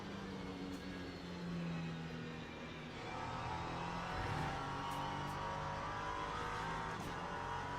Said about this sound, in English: Oh, I hear the tyres working.